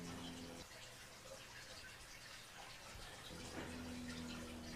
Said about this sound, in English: In my office, got a little bit of water running in the background. That's my aquarium